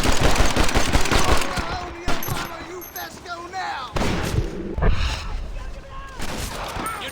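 Rapid gunfire from a mounted Gatling gun in Red Dead Redemption, loud, dense bursts of shots with booming impacts, layered under shouted voices and game action.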